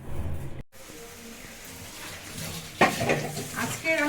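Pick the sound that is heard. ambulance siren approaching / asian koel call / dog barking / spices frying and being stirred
spices frying and being stirred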